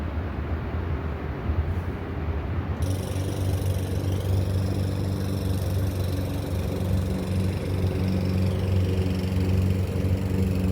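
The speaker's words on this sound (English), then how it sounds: "so you'll have to excuse the lawnmower noises and whatnot." A lawnmower runs steadily during landscaping work at an old flooded school building, a continuous droning engine at moderate distance that holds even throughout with no voices.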